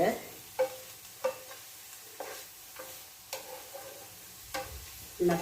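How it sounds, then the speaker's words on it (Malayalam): Okra and green chillies sizzle softly in a pan while being stirred, with a spaced series of scraping clinks of the spoon over a low frying hiss, close by and without speech. "വെണ്ടയ്ക്കയും പച്ചമുളകും കൂടെ ഇടാം. ഒന്ന് നല്ല ഒന്ന് ഇളക്കിയിട്ട് വെക്കുക."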